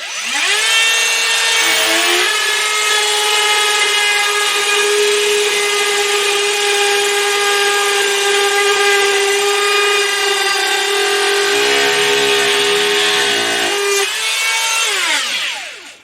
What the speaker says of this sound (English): the other method that most people are actually using is to use a drywall router